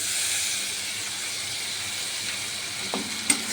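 A mixed spice paste goes into a pan of fried fresh snakehead fish for curry: a steady, loud sizzle and hiss throughout, with a sharper splash and spit near the end as the paste hits the hot oil.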